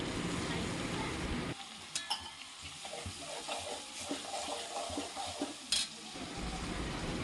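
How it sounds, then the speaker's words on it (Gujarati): Vegetables for undhiyu sizzle and get stirred in a pot, with a steady frying hiss and scraping spoon strokes against the pot through most of the stretch, fairly close and moderately loud. "પછી થોડીક વાર હલાવીશું।"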